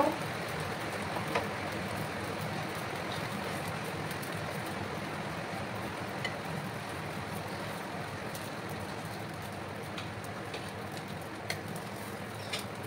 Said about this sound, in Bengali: প্রচণ্ড জোর বৃষ্টি আসছে বন্ধুরা, বৃষ্টির আওয়াজ তোমরা শুনতে পাচ্ছ।